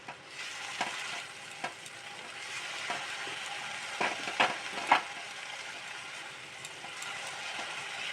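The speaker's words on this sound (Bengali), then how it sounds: "সবগুলো মশলা যাতে একসঙ্গে লেগে যায়, একদম অল্প জল দিলাম।" Meat masala and other spices fry in a pan with a splash of water, giving a steady sizzle broken by several sharp scraping stirs of a spoon.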